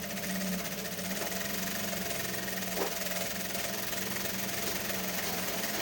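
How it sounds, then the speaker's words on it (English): A sewing machine stitches fabric for an Ishi Agu outfit, its steady mechanical whir running evenly and close throughout with no talk. "I use my machine footer to measure my sewing to gain a straight line."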